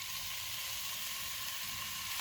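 Half a kilo of minced beef keema sizzles and fries in hot oil in a pan, a steady, dense crackling hiss that holds evenly throughout, close and moderately quiet with no talking.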